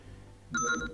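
A telephone rings in the Tex Murphy: Overseer video game, a single short electronic ring burst that starts partway through and sits clear and fairly loud over a low background hum.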